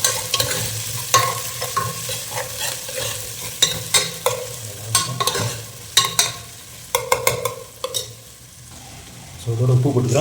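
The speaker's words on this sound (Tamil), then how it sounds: "கொஞ்சம் அப்படியே எண்ணெயில் வதங்கட்டும்." Onions sautéing in oil in a pan for a fried fish curry, with a steady sizzle and frequent sharp clicks and scrapes of a spatula against the pan, loud and close, ending in a brief quieter pause.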